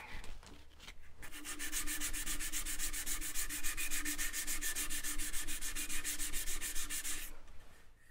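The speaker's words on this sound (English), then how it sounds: "Rotary sander will just take away any swell marks." A rotary sander works over a wooden cross-grain box turning on a lathe, making a loud, continuous abrasive rubbing with a fast rhythmic pulse that starts abruptly after a brief quieter moment and stops near the end.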